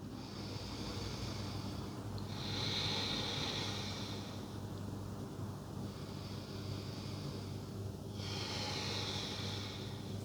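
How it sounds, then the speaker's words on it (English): Slow, deep yoga breaths come in long, soft whooshing inhales and exhales, roughly three cycles, close and quiet, alone with no talk. "Let's take 3 breaths here."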